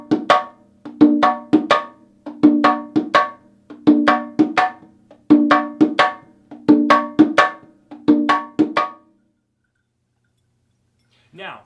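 Itotele bata drum playing a repeating pattern of open tones and sharp slaps, evenly spaced clusters of crisp hits close up, then a pause before a short faint sound at the end.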